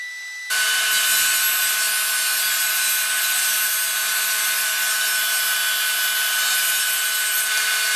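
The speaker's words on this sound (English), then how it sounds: "I'm just going to pass these through the thickness planer" A thickness planer roars into a loud, steady high-pitched whine as face frame boards are fed through it, continuous and close, with a lower motor hum underneath and no talking.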